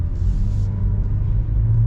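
A Chevrolet Trax's turbocharged engine pulls the car along the road with a steady, loud, low rumble. The drone stays close and even throughout, with no speech.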